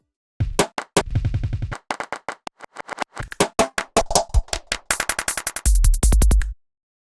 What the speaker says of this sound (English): together with a little filler made of noisy hi-hats.